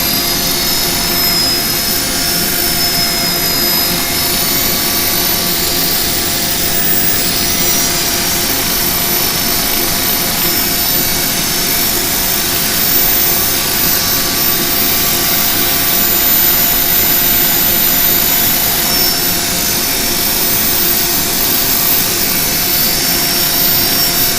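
A woodturning piece spins on a running lathe while 320-grit sandpaper is held against it, making a loud, continuous rushing hiss with a steady motor drone underneath, unbroken and close, with no talking.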